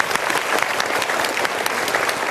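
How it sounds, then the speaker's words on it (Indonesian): An audience at a motivational seminar gives brisk, dense applause, close and steady throughout the short stretch. "Kita berikan tepuk tangan dulu."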